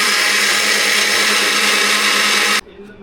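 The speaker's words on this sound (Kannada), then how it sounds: "ಇವಾಗ ಅಪ್ಪ ಗ್ರೈಂಡ್ ಮಾಡ್ತಾ ಇದ್ದಾರೆ." A mixer grinder whirs loudly as it grinds soaked ingredients into a smooth batter paste for Mangalore buns. The roar is steady and close for over two seconds, then cuts off abruptly into a quiet room.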